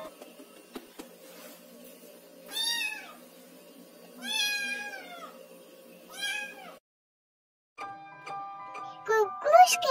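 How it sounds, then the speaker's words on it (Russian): A cat meows three times in drawn-out, rising-and-falling calls over a quiet background, followed by a brief silence and then a few higher squeaky cries. "Котик говорит мяу-мяу."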